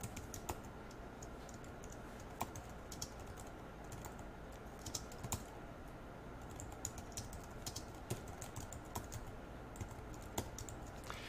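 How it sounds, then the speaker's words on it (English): Faint, quick clicking of keys on a computer keyboard in a quiet room, a steady run of taps with occasional louder strokes, heard alone with no speech. "And I'm just going to type out this note."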